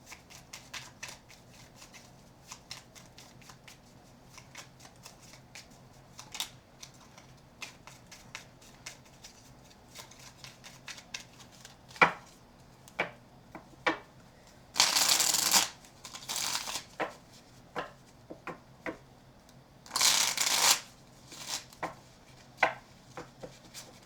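Tarot cards being shuffled, a rapid run of crisp papery riffles and taps, with two longer loud bursts of card riffling standing out near the middle and later, no voices.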